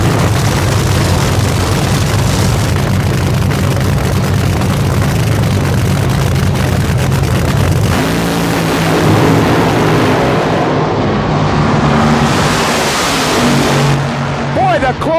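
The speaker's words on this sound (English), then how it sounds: "The closest drag race of the day." Fuel dragsters at a 1988 drag racing event roar down the strip, a loud continuous engine blast that shifts pitch midway and then fades as the cars pull away, with an announcer talking over it.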